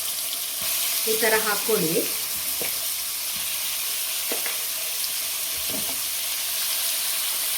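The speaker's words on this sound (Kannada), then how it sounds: "ಈ ಪ್ರಾನ್ಸ್ ಚೆನ್ನಾಗಿ ಗೀನಲ್ಲೇ ಫ್ರೈ ಆಗಬೇಕು." Prawns frying in ghee give a steady bright sizzle throughout, with a few brief utensil clicks and a short spoken phrase near the start.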